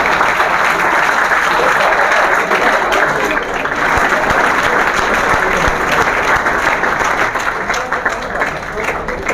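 Loud, sustained applause from a seminar audience welcoming guests at an academy event in Bhiwani, steady and dense from start to finish, with talk mixed in underneath.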